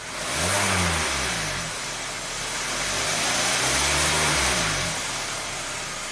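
A Hyundai car engine runs close by, its pitch swelling and settling twice as the motor revs up and drops back.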